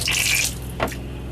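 Water runs from an RV shower hose with the shower head removed, a steady hiss of flow at the start that fades, followed by a brief splash, with no talking.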